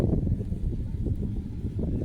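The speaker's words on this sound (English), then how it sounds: "Apologies for the wind." Wind buffets a microphone outdoors on a stormy day in the badlands, a continuous low rumbling roar with gusty surges, loud and close.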